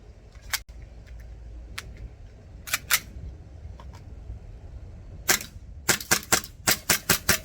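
Acetech Drumfire gas blowback airsoft gun fired outdoors on semi-auto: sharp, close single cracks, scattered at first, then a quicker string of evenly spaced shots near the end over a low background rumble.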